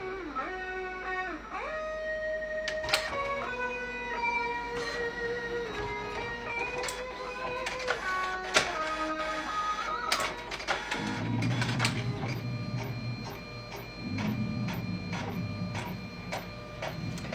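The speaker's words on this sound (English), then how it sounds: "We're going to choose the stylus printer." An Epson Stylus printer connected by parallel port runs a test page, its print head stepping and whirring in mechanical bursts with rising and falling motor tones, then a louder sustained paper-feed rumble near the end; no one speaks.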